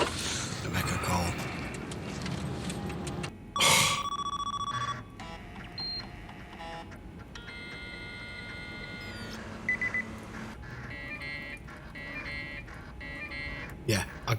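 Telephone ringing in a crime TV drama, with repeated electronic ring tones and beeps heard through other show sounds and people talking, plus a loud burst near the start.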